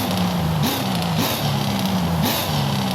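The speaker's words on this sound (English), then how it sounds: "Oh my god, the downshifts are so good." Corvette ZR1 V8 in Forza Horizon 5 dropping through gears, its engine note stepping up in pitch with each downshift, a loud continuous burble punctuated by three sharp rev blips over about three seconds.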